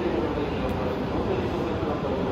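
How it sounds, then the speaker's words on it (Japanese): An out-of-service E257 series 2000 train pulls out of Tokyo Station platform 8, a steady rumble of rolling rail noise with a faint station announcement over it. "8番線回送列車が発車しております"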